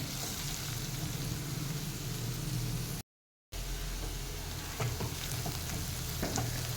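Capsicum sautés in a pan for a masoor dal Mysore masala dosa filling, a continuous close sizzle with scattered stirring scrapes and a brief silent gap partway through.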